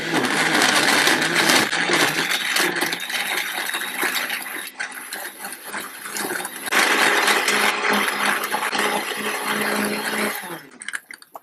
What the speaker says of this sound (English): So I'm going to throw everything in my blender and then just blend it up.